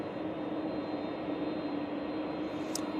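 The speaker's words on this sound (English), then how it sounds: "This is the 787-9 Dreamliner coming in from Bridgetown." A Boeing 787-9 Dreamliner arrives from Bridgetown at Manchester Airport, a faint, steady distant jet rumble with a constant tonal whine, no voices.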